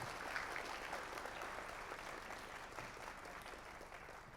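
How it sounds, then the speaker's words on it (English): Applause from a panel audience at a sports and drugs conclave, a faint, distant and steady wash of clapping with a soft crowd murmur beneath and no clear speech. "a round of applause for the question would be in order"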